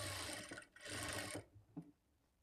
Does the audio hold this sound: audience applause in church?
no